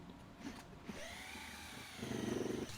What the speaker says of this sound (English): then you can drill the rest of the way